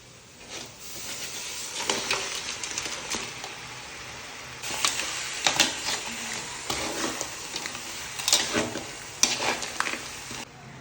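Marinated crab sizzling and frying in a pan for crab gravy, with bursts of crackling and stirring scrapes rising and falling over a steady hiss.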